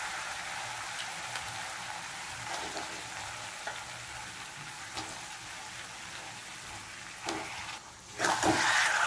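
Lotia fish frying in a pan with spiced potatoes, giving a steady broadband sizzle with light stirring clicks, then a louder burst of sizzling near the end.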